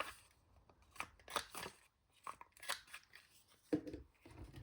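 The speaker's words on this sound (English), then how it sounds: "And then I'm going to corner around these 3 sides this time." Corner rounder punch biting through paper pocket corners, several separate crisp crunchy clicks in a quiet room, close and fairly soft, with brief gaps between each press.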